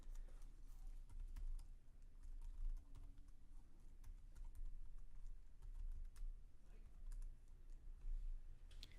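Rapid typing on a computer keyboard, steady clattering keystrokes close by, running continuously with a low room hum underneath.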